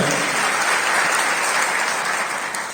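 A church congregation claps together in sustained, dense applause, loud and close throughout.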